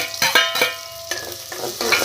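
Sliced medium onions and whole spices frying in hot oil, a steady sizzle broken by several bursts of stirring, close and fairly loud with no talk.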